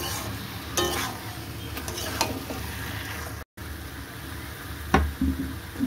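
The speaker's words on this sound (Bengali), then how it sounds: "দিয়ে দিচ্ছি কাজু আর চালমগজের পেস্ট। এটাকেও ভালো করে মাংসের সাথে কষিয়ে নেব।" Meat is sautéed in a pan with cashew and melon seed paste, giving a soft continuous sizzle broken by scraping stir strokes and a few louder clatters from the spoon. No one speaks.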